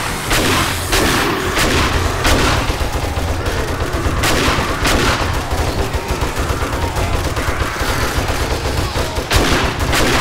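Gunfire in the 7 Days to Die video game: rapid, repeated shots crack out in bursts for the whole stretch, loud and close, with sharp volleys and brief gaps between them.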